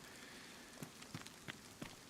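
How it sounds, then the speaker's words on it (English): Rain falling in the video game Road to Vostok, a soft even hiss punctuated by a few sharp drip-like taps, faint and steady with no voices. "See? It's raining."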